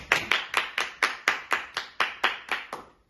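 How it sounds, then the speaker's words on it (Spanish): Sharp, evenly timed claps repeat steadily, around a dozen in three seconds, like an audience clapping in unison. "Un aplauso, por favor"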